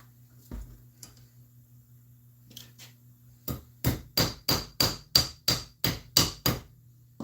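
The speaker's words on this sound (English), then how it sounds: "I'm just going to take and hammer it down, hold it in place" A few light taps, then about eleven sharp, evenly spaced hammer blows strike metal wire into a vehicle seat close by, ringing slightly over a faint steady hum.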